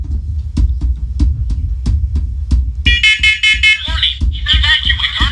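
Smoke alarms sounding during a test, a rapid series of loud electronic beeps, joined partway through by a louder, warbling electronic voice-like alert tone.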